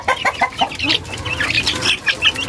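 Laying hens clucking steadily in a busy flock near a feeder, close by, with repeated short clucks and murmurs overlapping throughout.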